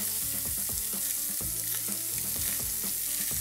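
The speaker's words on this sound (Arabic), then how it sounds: "هاخد شوية من البصل او كل البصل اللي عندي وهحطه هنا" Onions frying in a pot for a braise, a dense constant sizzle with soft stirring clunks and bubbling pops scattered through it, close and steady.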